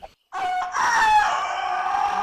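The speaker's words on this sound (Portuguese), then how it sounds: "Quem é esse? Um galo?" A rooster crows once, loud and close, a long drawn-out cock-a-doodle-doo that rises sharply and then holds steady, heard on its own with no talk over it.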